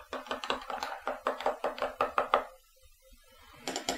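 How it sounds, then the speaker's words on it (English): A spoon stirring syrup into a pumpkin spice latte makes a quick run of close, rhythmic clinks against the cup for about two seconds. A short pause follows, then a few more taps. "you just need to give it a quick stir to make sure it's dissolved"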